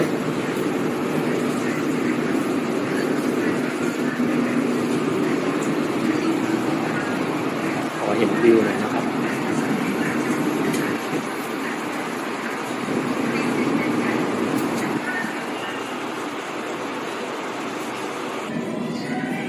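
A Bangkok Blue Line MRT train rumbles steadily at Bang Khun Non station, a continuous loud low roar of the carriage in motion lasting throughout, with no clear talk over it.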